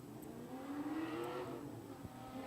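Drift cars at the start line of a Formula Drift ProAM round at Sebring Raceway rev their engines at a distance, a steady rising and falling engine drone under faint crowd ambience.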